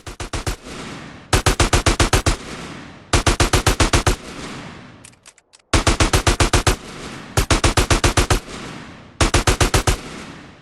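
AK rifle fire in the video game GTA San Andreas comes in loud, rapid bursts of about eight shots each, repeating with short gaps between them.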